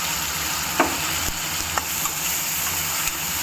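Curry leaves, field beans and other ingredients frying in a pan for a Chittoor-style curry, giving a steady broadband sizzle with a few soft stirring scrapes, close and alone.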